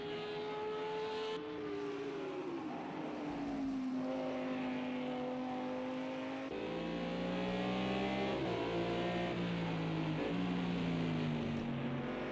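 GT3 race cars roar around Laguna Seca in Project CARS 2, a continuous loud engine drone with pitch rising and falling through gear changes and overlapping cars, no voices.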